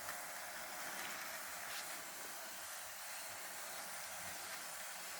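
A Walthers Mainline EMD GP9 model locomotive pulls a string of cars around a layout, giving a faint, steady hiss and whir of motor and wheels with no talk.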